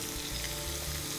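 Hakka noodles fry in a pan with a steady, close sizzle while a spoonful of sugar goes in, the crackle continuous and even, with no talking.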